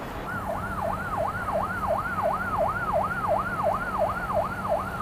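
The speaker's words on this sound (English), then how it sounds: "This annoying siren just going on at least like 5 to 10 minutes." An emergency siren wails outdoors, its tone rising and falling in a steady repeating cycle, moderately loud and somewhat distant over a low background hum, with no voices.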